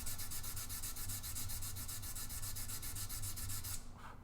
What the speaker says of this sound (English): So now I have to sand it all back.